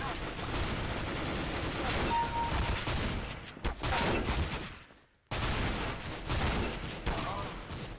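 Sustained rapid gunfire fills a round of CS:GO, loud and dense almost throughout, with one brief gap near the end before the shooting resumes.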